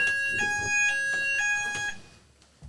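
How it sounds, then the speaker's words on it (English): A fire alarm rings with a piercing electronic tone, pulsing in uneven bursts for about two seconds before cutting off and leaving a quiet room. "that is a fire alarm."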